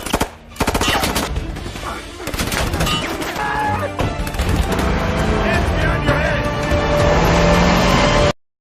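Rapid machine-gun bursts and scattered gunshots from a film shootout, loud and dense with vehicle noise mixed in, running continuously before cutting off abruptly.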